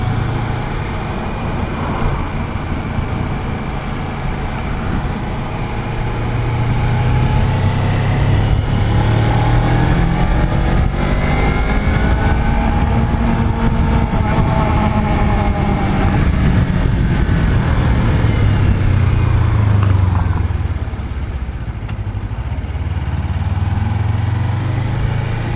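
Suzuki GSX250R motorcycle engine while riding, a continuous loud close drone whose pitch rises and falls steadily as the revs climb and drop through the gears.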